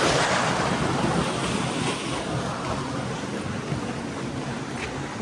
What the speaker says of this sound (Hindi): ये आ गया रिवर, पानी आ रहा है यहाँ से.